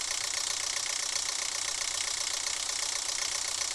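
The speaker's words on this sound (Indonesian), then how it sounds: "Generatornya udah kita nyalain." A generator engine runs in the horror game Evil Project. It makes a steady, loud mechanical drone with a rough, knocking rumble that continues without a break. No one speaks.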